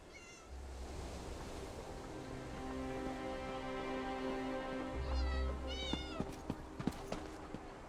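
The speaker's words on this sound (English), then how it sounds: "Damnable cats!" Cats in a video game meow several times over a soft, wave-like ambient wash, the calls rising and wavering near the end, followed by a few sharp clicks.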